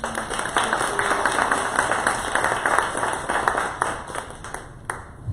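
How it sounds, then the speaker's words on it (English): An audience gives a round of applause at a community talk event, with dense, steady clapping from many hands that carries on for several seconds before thinning out near the end. "Let's give her a round of applause"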